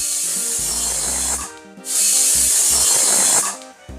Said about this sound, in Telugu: టూ విజిల్స్ వచ్చినాయి, స్టవ్ ఆఫ్ చేసేద్దాము.